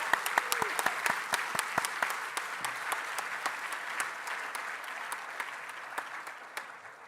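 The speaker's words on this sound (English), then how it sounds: "Let's please give them all a warm round of applause." Applause from an auditorium audience at an international astronautics congress awards ceremony, a broad steady wash of many hands clapping with a few sharper close claps, fading slightly toward the end.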